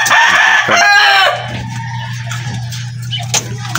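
A red checkered gift rooster crows once loudly and close at the start, followed by softer clucking and a steady background hum.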